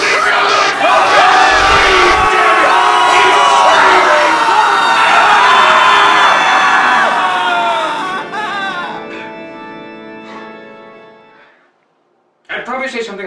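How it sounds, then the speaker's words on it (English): A large crowd screams and yells together at full volume for several seconds, then fades into scattered cries and brief silence before noise resumes. "You have to scream! Scream right now! Scream real loud!"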